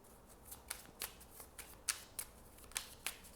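Tarot cards are shuffled by hand in a quick run of crisp riffling bursts, close and quiet, with no voice.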